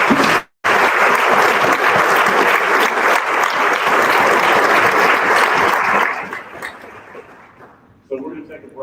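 An audience at a Southern States Energy Board session applauds a speaker with loud, dense clapping for about six seconds, then fades out as a voice begins over the room.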